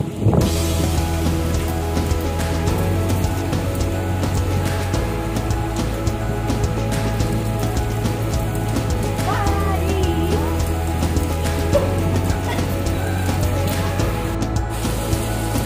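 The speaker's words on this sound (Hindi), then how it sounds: "बट फाइनली अब बारिश आ गई है" Steady rain falls close by on plants with a constant patter, joined by a low steady hum and faint background sounds.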